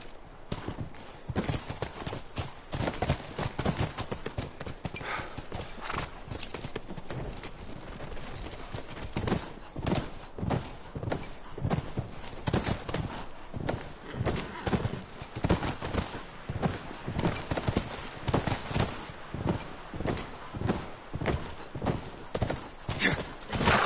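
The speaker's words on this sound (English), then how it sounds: "Come on, back to the horses." Horse hooves clip-clop in The Last of Us Part II, a steady run of sharp hoofbeats, close and fairly loud, with faint voices and a brief whinny mixed in.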